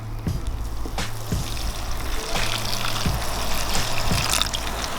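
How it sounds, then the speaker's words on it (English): Beef stock poured over slow-cooked beef short ribs in a pot, a steady close liquid pour and trickle with a few soft knocks, no talking. "Now I'm going to add around half a pint of beef stock."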